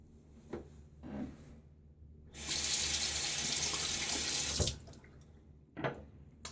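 A tap runs to rinse a Wolfman WR1 safety razor, a loud, steady gush of water for about two seconds, framed by faint handling knocks and clinks before and after.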